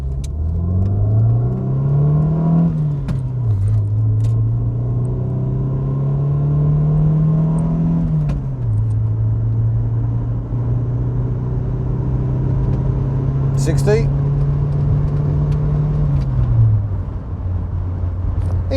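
A Rover 820's 8-valve O-series engine revs up and shifts repeatedly, pitch climbing then dropping between gears, a steady close interior drone throughout.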